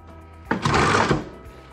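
A Reliable 8100DT drapery tacker sewing machine runs at 1500 RPM, a close, loud mechanical whir that starts abruptly, holds steady for about half a second, then winds down.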